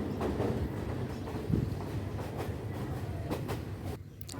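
A train rumbles along with a low, steady roar and rhythmic clickety-clack of wheels, heard from inside, with a few sharper rattles, in Bangladesh.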